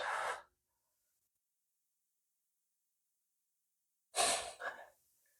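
A single breath-like exhale at the start, then silence for several seconds, then another audible breath near the end, both close and soft, with no talk, during a slow yoga balance flow.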